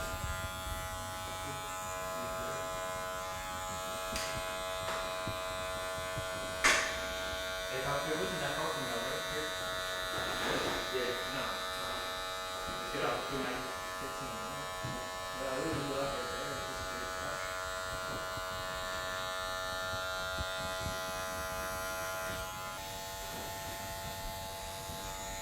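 Electric hair clipper with the guard off buzzing down a son's head, a steady close hum running throughout, with someone talking quietly over it at intervals.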